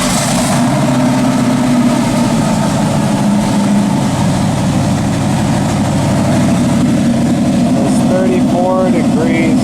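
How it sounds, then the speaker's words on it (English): A Dodge 5.9 Magnum V8 running on a stand-alone ECU rumbles loudly at a steady idle, deep and continuous, with people talking over it. "Let's see if she will fire up."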